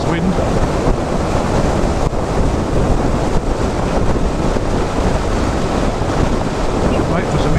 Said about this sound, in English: The other thing about riding in strong wind is that